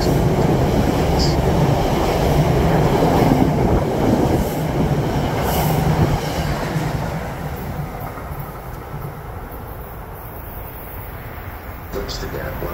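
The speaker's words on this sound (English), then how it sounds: "The Amtrak 701 westbound regional train number" An Amtrak westbound regional train at Metropark station in New Jersey rumbles and clatters along the platform with faint wheel squeals, while a public-address announcement plays over it and the noise slowly fades.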